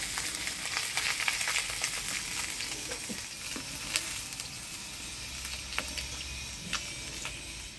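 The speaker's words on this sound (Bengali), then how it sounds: "মাছটা আমি কড়া করে ভাজি নিলাম আজকে" Fish fries crisp in hot oil in a village kitchen, a steady bright sizzle and crackle with scattered pops and spits running the whole time, soft and close with no voices.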